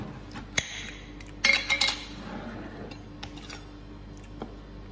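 A knife chopping pickles into small bits on a board, a few sharp isolated knocks then a quick burst of rapid close cuts, quiet between, no talking.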